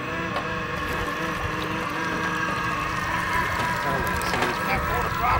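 An electric motor on a Tracker Grizzly jon boat with lithium batteries hums steadily at quarter throttle on the water, with a continuous broadband whir and wind rush throughout, fairly loud and close.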